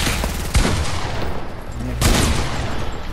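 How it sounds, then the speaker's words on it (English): Fortnite shotgun fire, two loud sharp blasts about a second and a half apart, each followed by a decaying boom under ongoing game noise. "This man actually got to use a shotgun while we're no scoping."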